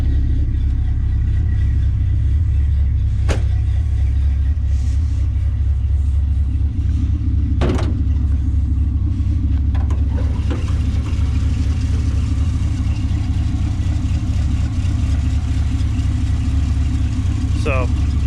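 A car engine idles steadily after a new exhaust was fitted, a loud, deep, constant rumble close by with a couple of sharp clicks over it and no break in the drone.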